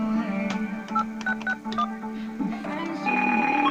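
Touch-tone dialing of a three-digit extension on a Fujitsu SRS-1050 ISDN desk phone: a few short tone bursts over a steady hum, ending in a sustained tone.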